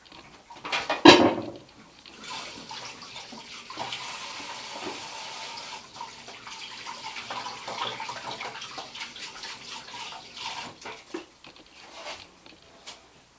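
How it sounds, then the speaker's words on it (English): Tap water runs steadily into a kitchen sink while hands are washed during home cooking, a continuous splashing wash lasting most of the stretch after a sharp knock near the start, with no talking. "Just wash my hands a bit."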